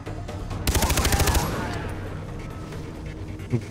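A rapid burst of video game automatic gunfire, loud and close, lasting under a second, then a rumbling echo and one later single shot, with faint voices.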